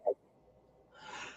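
A single quick sneeze bursts out near the start, close and fairly loud, followed by only a faint, steady background hiss with no talking.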